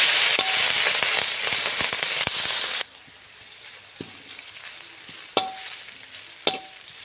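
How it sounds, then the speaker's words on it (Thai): Loud sizzling and spattering of chili and garlic frying in a little hot oil in a pan, then it suddenly quiets to faint crackles broken by a few sharp clinks. "ตั้งกระทะเทน้ำมันลงไปนิดหน่อยนะเจ้าเอาพริกกระเทียมลงไปนะ"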